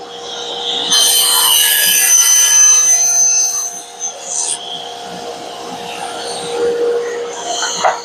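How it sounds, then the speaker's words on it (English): A table saw spins up and cuts wood for a splined miter jig, giving a loud high-pitched whine with a steady motor hum that dips briefly mid-cut and then resumes. "now we're going to go ahead and turn the table saw on"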